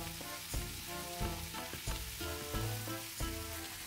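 Carrots, celery and garlic frying in a pan for a Russian borscht, with a steady sizzle broken by a few sharp stirring knocks, close and alone.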